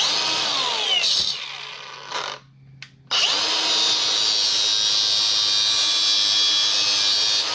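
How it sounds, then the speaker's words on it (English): A power tool cuts through an emergency brake cable in a workshop, a loud steady high whine with a brief pause and a couple of short bursts early on, then a long unbroken cut close by, no talking. "I'm going to cut this here as far back as I can for now."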